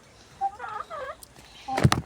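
Domestic country hens, an egg-laying native breed, give a few short clucks and squawks close by, ending in a louder burst of calls over quiet background.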